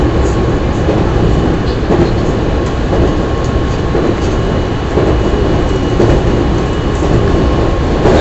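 A JR West 207 series refurbished commuter train running between Osaka and Amagasaki, heard from on board as a steady, loud rumble of motor and wheels on rail, with faint clicks of rail joints throughout and no one talking.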